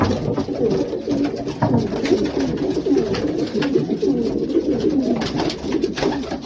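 Racing pigeons coo in low, rolling repeated calls, fairly close, with soft rustling in the background.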